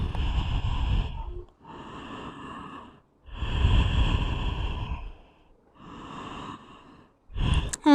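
Slow, deep breaths during a yoga hip stretch, each long inhale and exhale close and audible, separated by short quiet pauses, with no talking.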